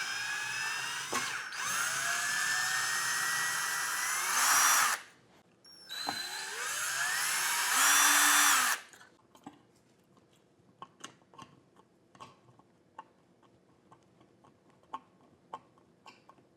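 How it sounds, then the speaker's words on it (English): A power drill runs in two long bursts, whining up and down in pitch as it drives screws out of and back into a ceiling fixture mount, followed by quieter scattered clicks and handling taps. "we're going to have to take out these screws from the ceiling and then put the screws back in"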